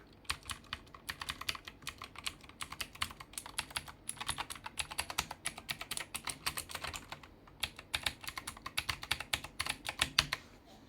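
Rapid, clacky keystrokes on a MageGee MK1 TKL mechanical keyboard with generic Chinese switches rattle in a fast, uneven rhythm close by, with a few brief pauses between bursts.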